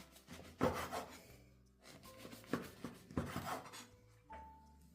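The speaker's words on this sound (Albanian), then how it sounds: "E tani, vazhdojmë ta prejmë kështu në forma të vogla katrore." A knife cutting stale bread into small squares, with several distinct rasping strokes and soft thuds against a board, close and fairly quiet, with no talk.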